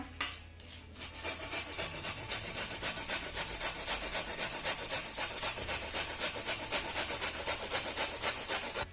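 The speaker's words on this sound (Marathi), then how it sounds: "आपण आता हा कोबी किसून घेऊया" Head of cabbage grated by hand, steady rhythmic rasping strokes scraping against the grater, close and continuous with no talk.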